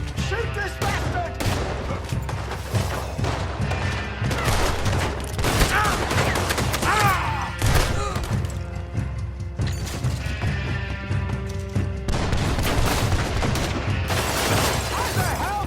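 Heavy gunfire in the video game Red Dead Redemption 2: dense, overlapping volleys of shots with crashes and impacts run loud and nearly continuous throughout, with voices shouting intermittently beneath the chaos.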